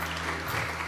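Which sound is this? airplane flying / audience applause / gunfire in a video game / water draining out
audience applause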